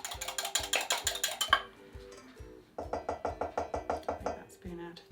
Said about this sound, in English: I'm just going to beat that a little bit.